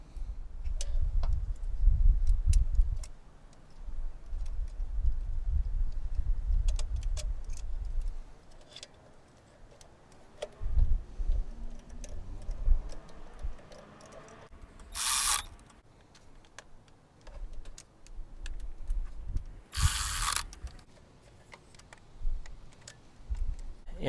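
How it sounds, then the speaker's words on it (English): A Milwaukee cordless 3/8 drive ratchet bolts a 12mm bolt into a Toyota Tercel motor mount. Two short, loud motor whirs stand out among scattered light clicks, rattles and tool-handling noises in a quiet garage. "we only use a 3/8 drive. I use this Milwaukee."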